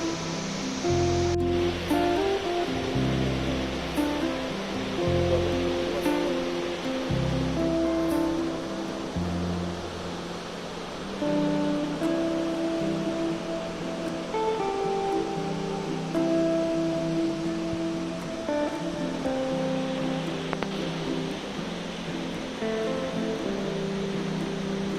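Gaganachukki and Barachukki waterfalls, the steady wash of rushing water heard from afar, continuous and even throughout, with low rumbles and faint wind passing early on.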